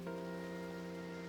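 Steady rain hiss in the video game Pokémon Pokopia, faint and continuous beneath sustained, tonal background game music.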